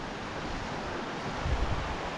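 Flowing water of Mill Creek on the Vivian Creek trail up San Gorgonio in Southern California, a steady, dense rushing roar heard close and loud with no voices.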